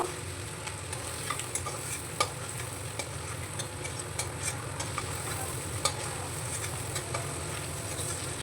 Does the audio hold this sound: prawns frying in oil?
yes